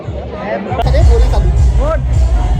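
A crowd of friends gathered at a haldi ceremony, a loud close babble of overlapping voices and chatter filling the whole moment with a sudden jump in level partway through.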